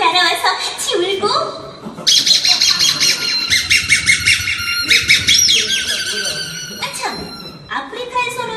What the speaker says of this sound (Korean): 아프리카의 울긋불긋한 새도 날아와서 같이 울고